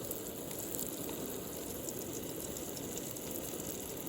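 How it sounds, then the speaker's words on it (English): Steady, dense sizzling of redfish frying in hot oil, a constant crackling hiss with no pauses or voices. "Now we're gonna set her in the oil."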